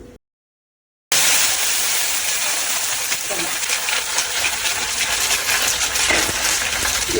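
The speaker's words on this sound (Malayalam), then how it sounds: "ഇനി ഒരു പൊട്ടലുണ്ട് നനവുള്ളത് കൊണ്ടേ എല്ലാം കൂടെ കറിവേപ്പില എല്ലാം ഒരുമിച്ച് തന്നെ ഞാൻ ഇടുന്നത്" Wet curry leaves dropped into hot oil set off a loud, continuous crackling splutter right up close. The sizzle starts abruptly after a moment of silence and keeps spitting steadily.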